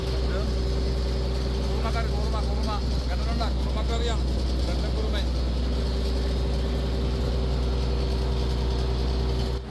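A steady, droning boat engine runs loudly throughout at sea at night, with a mechanical rattle and faint chirping sounds layered on top.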